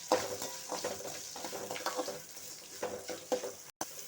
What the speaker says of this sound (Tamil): வெங்காயம் நல்லா பொன்னிறமாக வணங்கி வரட்டும்